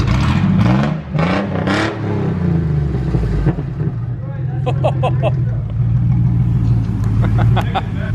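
A 4.3-liter V6 truck engine with the exhaust cut off idles loudly and steadily, rising in a few throaty revs, while people talk over it.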